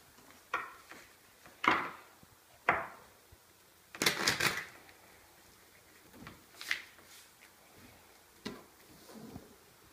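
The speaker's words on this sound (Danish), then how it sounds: "vi kan lige starte med at blande kortene" A deck of playing cards is shuffled by hand for a math card trick, giving scattered papery riffles and taps with one louder flurry midway. The sounds are close but soft, with quiet gaps between them.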